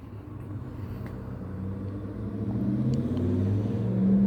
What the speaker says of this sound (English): I have no idea who that truck was, but whatever.